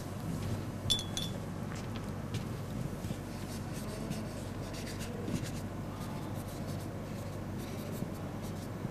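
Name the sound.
colouring the sky on paper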